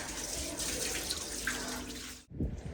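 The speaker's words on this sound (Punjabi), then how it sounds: "ਅਸੀਂ ਬਾਹਰੋਂ ਧੋ ਕੇ ਜਨਰਲ ਸਫਾਈ ਬਾਹਰ ਦੀ ਕਰ ਰਹੇ ਹਾਂ" Water splashes and runs steadily while the outside of a house is washed down, a close rushing spray that cuts off abruptly near the end before a brief splash returns.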